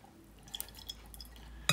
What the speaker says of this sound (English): There you go, they're draining there.